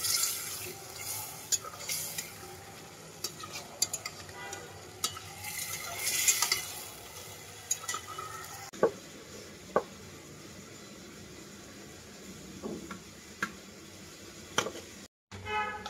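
Eggs fry in a pan with a low, steady sizzle, broken now and then by clinks and scrapes of a utensil.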